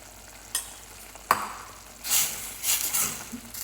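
Salt and garam masala roasting in a pan for pea pulao, with a spoon knocking twice against the pan, then bursts of sizzling stir-frying, fairly close and moderately loud.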